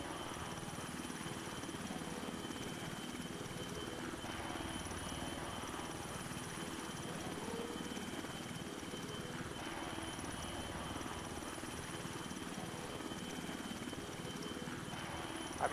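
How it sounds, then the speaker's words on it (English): Helicopter flying in a video game, a continuous faint rotor and engine drone holding steady throughout. "there should be a quite survivable helicopter"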